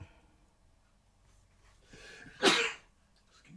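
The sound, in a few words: sneeze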